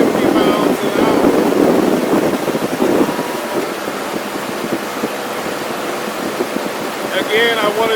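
Heavy, roaring wind noise buffets the microphone of a rider on a Can-Am Spyder cruising at about 50 mph on a road trip, a dense rush that is strongest at the start and has brief voice fragments near the end.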